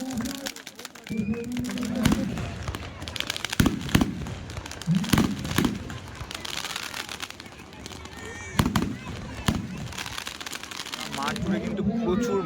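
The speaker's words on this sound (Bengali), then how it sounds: "আতসবাজি প্রদর্শনী দেখার জন্য" Fireworks crackle and pop repeatedly with sharp bursts and sizzling streams at a Kali-Sitala Puja festival display in Natagachi, while a crowd talks nearby throughout.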